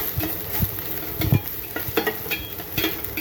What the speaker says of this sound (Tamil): நல்லா வதக்குங்க நல்லா சுருளில் வரணும் வெங்காயம் வந்து முழுசு முழுசாக தெரியக்கூடாது